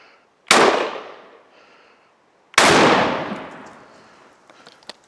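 Two loud, close shotgun blasts from a Benelli M4 fired at targets, about two seconds apart, each a sharp crack followed by a decaying echo, with faint metallic clicks after the second.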